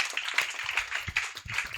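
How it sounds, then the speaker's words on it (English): Audience at a business community event applauds, a steady patter of hand claps with scattered louder claps for roughly two seconds, close and fairly quiet. "big round of applause for Ian Pascoe, Managing Partner at Grant Thornton"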